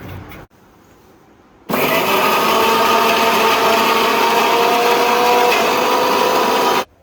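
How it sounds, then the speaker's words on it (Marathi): A mixer grinder whirs loudly and steadily for about five seconds while grinding garlic, cumin, green chilli and coriander, starting abruptly after a quiet lead-in and cutting off sharply at the end. "थोडंसं जाडसरच राहिलं होतं म्हणून परत एकदा मिक्सर अजून फिरवून घेतला"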